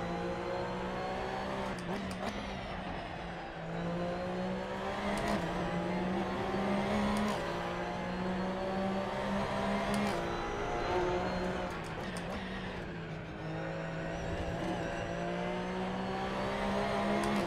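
Porsche GT3 Cup race car in Assetto Corsa, its engine revving high and continuous with repeated gear shifts and pitch swings, loud and close throughout.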